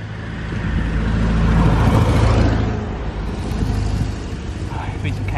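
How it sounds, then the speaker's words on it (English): A car motor passes by on an outdoor road, building to a loud, close rush and then fading away under steady wind and ambient noise. "Oh, I like this motor."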